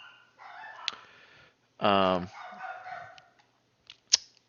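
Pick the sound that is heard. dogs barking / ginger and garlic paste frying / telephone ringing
dogs barking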